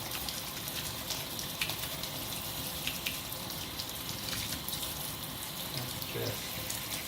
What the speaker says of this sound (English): you're just going to turn on the water